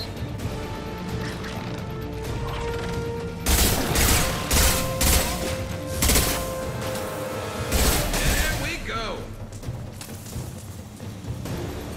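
Battle rifle gunfire in the video game Mass Effect 2, rapid bursts of loud, close shots clustered in several volleys amid crashes and impacts, with some speech around them.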